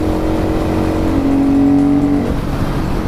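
A KTM 500 EXC supermoto's single-cylinder engine drones loud and close under wind rush while the rider accelerates steadily through the gears, its tone climbing and holding.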